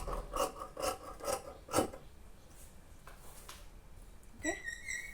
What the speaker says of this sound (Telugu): ఎక్స్ట్రా ఖర్చు ఇలాగా కట్ చేసుకోవాలి నీట్గా